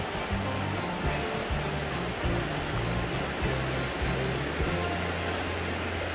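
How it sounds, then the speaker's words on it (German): Water rushing steadily through a river in the Gorges du Nozon, a dense even roar that stays constant from start to finish, with no talk over it. "Ist auch hier schon ziemlich tief das Wasser. Ein schöner Fluss."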